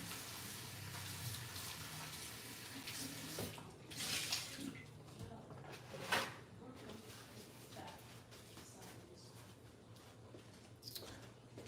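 Tap water runs steadily over plantain being rinsed in a kitchen sink, a soft continuous splashing with a few louder gushes and handling noises, fairly quiet and close.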